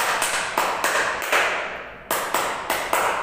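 A classroom of students clapping together in a counting rhythm, sharp crisp claps in short grouped bursts with brief gaps between sets, close and loud with no talking.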